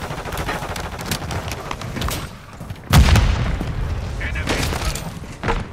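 Gunfire and heavy booms in the Modern Warfare 3 video game, with a loud blast at about three seconds amid scattered shots, while voices talk over the combat.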